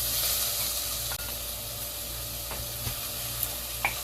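Marinated ingredients for Korean soft tofu stew sizzle steadily in oil in a pot, a faint continuous frying hiss with a few soft clicks and stirring taps.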